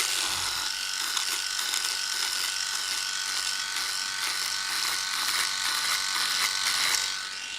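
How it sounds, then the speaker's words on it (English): An electric trimmer buzzes steadily and close up, a high whirring drone that runs throughout with slight shifts as it moves over stubble. "use the trimmer, and you can just trim."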